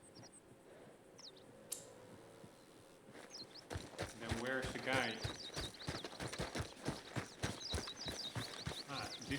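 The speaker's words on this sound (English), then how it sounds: "there's another horse over there." Horse hooves clip-clopping in the video game Red Dead Redemption 2, a steady run of sharp hoof strikes that grows louder midway, with someone talking over them.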